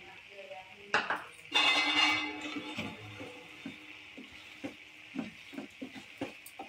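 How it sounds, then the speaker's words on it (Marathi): A spoon scrapes and clinks against a pot while crushed peanuts are stirred into cooked barnyard millet rice, with a burst of rattling then a run of quieter irregular taps, close and fairly faint. "दाण्याचा कूट चांगला ढवळून घ्यायचा"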